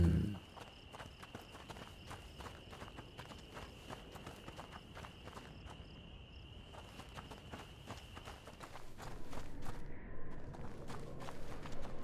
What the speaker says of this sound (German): Lea! Das Pferd!